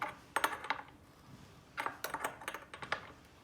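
Metal air coupler tightened onto an AirBuddy air reservoir with a narrow 22mm spanner, giving two short bursts of sharp clinking and ratcheting metal contacts, close and fairly quiet, with no voices.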